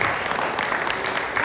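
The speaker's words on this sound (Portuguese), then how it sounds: "Você pode aplaudir o Senhor?" A church congregation breaks into applause during an Easter sermon, a short, dense and fairly loud burst of many hands clapping together without pause.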